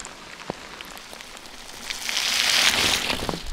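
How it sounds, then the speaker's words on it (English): Rain falls steadily on a tree canopy during a bikepacking trip on the Colorado Trail, a soft constant patter with scattered drips that swells louder toward the end, heard alone without talk. "It is raining pretty hard out there."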